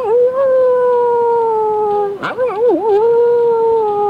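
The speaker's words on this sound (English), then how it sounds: "The dogs howled the approach of Mad Madan" Dogs howl as a radio drama sound effect, a long sustained wavering howl that dips and warbles midway, then carries on steadily, loud and alone with no talk.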